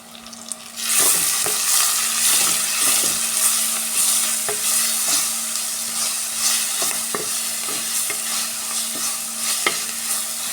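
Onion, curry leaves and a ground paste frying loudly in a pan, a dense hissing sizzle with frequent scraping strokes of a spatula stirring at close range, a low steady hum beneath, no voices.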